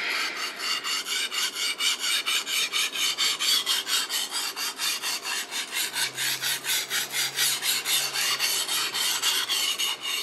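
Carbon steel sashimi knife blade is drawn over a whetstone in steady, evenly paced rasping strokes, close and continuous with no talking.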